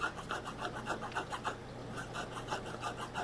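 A hand file rasps against the inside of a hammered copper ring to knock down the burr and bevel the edge, giving quick, evenly repeated scraping strokes at close range.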